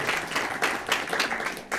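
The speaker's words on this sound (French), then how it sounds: "Oui, on peut l'applaudir." Audience applause following a conference talk on multicriteria evaluation, a short burst of many hands clapping indoors at moderate volume, steady throughout.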